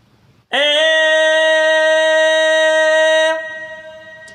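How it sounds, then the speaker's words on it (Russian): A single sustained sung note held steadily for about three seconds without wavering, clear and close, then cut off with a faint trailing echo. "Когда мы поем какую-либо ноту обычным звуком, без вибрато,"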